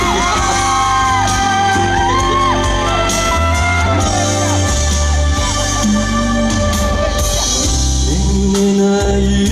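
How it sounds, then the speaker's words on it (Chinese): Concert audience in Taipei 101 at a Christmas music event shouting and whooping loudly and continuously over ringing stage music, with cheers swelling throughout. "如果你们觉得我日文歌唱得不错，也给我点尖叫声加掌声"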